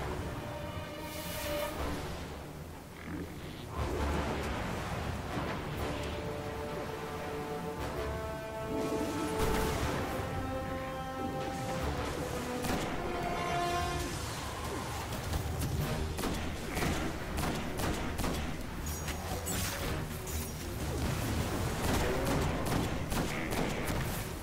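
Gunfire in the video game Destiny, PS4 Prison of Elders: repeated rapid weapon bursts and thuds running throughout over a busy musical game mix, fairly loud and continuous.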